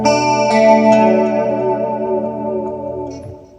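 An electric guitar chord rings out through an acoustic simulator, a Boss Chorus Dimension C, delay and reverb, playing a classic rock guitar tone. The shimmering chord sustains and slowly decays, alone and fairly loud.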